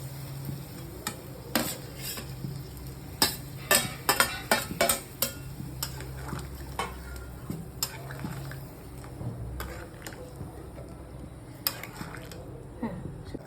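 Spoon stirring cubes of paneer into a curry sizzling in a pan, with repeated clinks and scrapes against the metal over a steady low sizzle, close and moderately loud, no talk.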